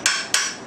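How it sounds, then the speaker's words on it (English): A hammer strikes a brass punch or drift to tap a shaft out of a Saginaw three-speed gearbox, three sharp metallic taps at an even pace, close and ringing briefly after each blow. "a drift to tap it out"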